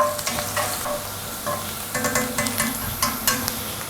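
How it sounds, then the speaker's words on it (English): Onion frying in a pan and being stirred, a constant close sizzle punctuated by scraping, clattering strokes of the utensil. "Mix up the onion and fry about 2-3 minutes."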